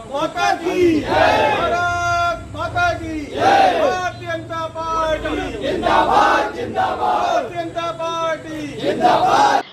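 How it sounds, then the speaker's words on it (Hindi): At a political party's victory celebration, a crowd of party workers waving flags shouts slogans in loud, rhythmic unison, the chant repeating in surging waves every couple of seconds. "पार्टी का झंडा लहराकर और भारत माता की जय के नारों से माहौल गुंजायमान कर दिया।"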